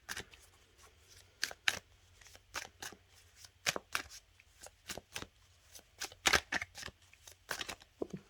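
Oracle cards shuffled and handled, a series of crisp riffling flicks and slaps in irregular bursts, close and fairly quiet, with no talk.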